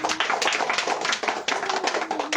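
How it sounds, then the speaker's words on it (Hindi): Church congregation clapping during a sermon, a lively rhythmic burst of many hands with sharp repeated claps, fairly near and without speech on top. "ताली बजाएं परमेश्वर के लिए।"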